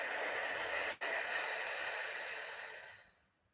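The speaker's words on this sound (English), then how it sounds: "Exhaling." A long, steady breath exhaled slowly during a guided meditation, a soft airy rush that holds evenly, breaks briefly near the start, then fades out into silence.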